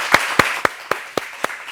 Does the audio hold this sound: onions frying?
no